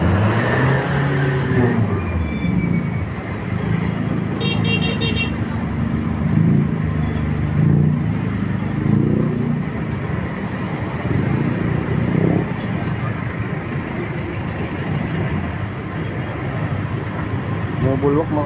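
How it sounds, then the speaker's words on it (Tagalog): Road traffic at the NLEX-SLEX connector under demolition in Magsaysay: a continuous loud roar of passing cars and heavier vehicles with engines accelerating, alone, without talking. "Traffic din."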